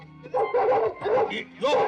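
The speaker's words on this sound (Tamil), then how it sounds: "புது நாய் இழுக்குது யாருக்கு கட்டுப்பட மாட்டேங்குது" A newly acquired dog yelps and barks in short, excited bursts while straining on its lead, close by, with people talking over and around the barking.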